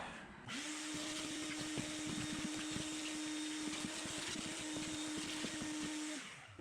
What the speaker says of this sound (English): let me get the vacuum up all this crap that gets caught in here